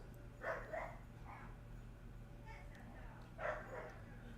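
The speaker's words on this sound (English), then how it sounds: "Sorry, dogs are going crazy." Dogs bark in a few short bursts, two early and one later, faint and some distance off against a steady low hum.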